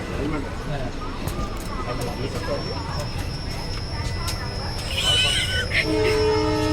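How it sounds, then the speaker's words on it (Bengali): A train departs from a busy station, with rumbling rail noise and a horn-like tone near the end, under people talking nearby. "আরে ট্রেন ছেড়ে দেবে"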